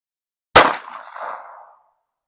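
One sharp, loud shot from a Ruger Mark II pistol that is prone to double feeds, with a brief ringing tail as it fades, alone with no voices.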